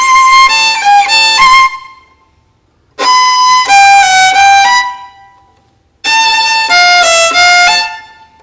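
Violin section bowing a short passage from the first violin part, three bright sustained phrases about a second and a half each, separated by gaps of rest, played loud and close with no talking.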